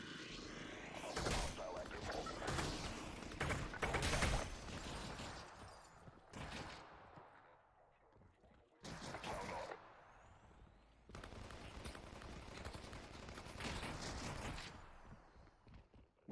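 Rapid bursts of in-game gunfire in Half-Life: Alyx as a Combine squad is fought alongside Barney, loud volleys separated by quieter pauses, with some speech in between.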